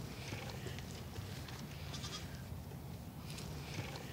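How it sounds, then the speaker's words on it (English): Goats bleat on a farm in Battleground, several calls rising over a steady, fairly faint outdoor background with no talk. "You want a couple goats?"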